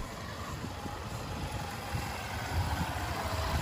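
A motorcycle engine keeps running steadily at a low idle after accelerating during a riding exam, a close, even hum that rises slightly toward the end.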